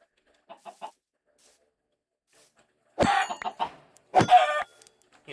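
Chickens in a video game, with a few soft, quiet clucks followed by two louder bursts of squawking and clucking, close by.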